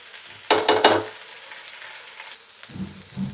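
Ginger garlic paste frying in a pan, slightly overcooked, with a few loud stirring scrapes and sizzles at the start, then a quieter steady fry with low clatters near the end.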